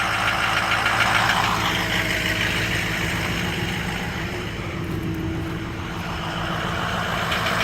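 A 2007 Ford F250 with the 6.0 diesel idles loud and close after a cold start, a steady rough clatter throughout with no talk.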